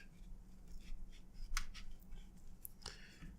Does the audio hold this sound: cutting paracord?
yes